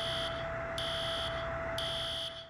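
A dormitory fire alarm, set off by shower steam, blares without a break as a steady electronic tone, with a higher pulsing beep cycling on and off about once a second. Loud and close, with no talking.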